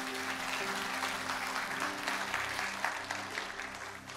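Steady applause from a church congregation welcoming a pastor at a Sunday worship service, a sustained wash of many hands, moderately distant and even in level, with no voices standing out.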